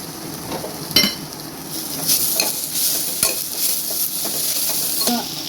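Egg curry ingredients sautéing in a hot pan with salt: a steady sizzle under repeated scraping and clinking of a spoon against the pan, close and fairly loud, with no talking.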